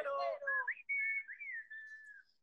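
An app notification whistle: a short whistled melody of sliding, rising and falling tones, clear and alone, fading at the end.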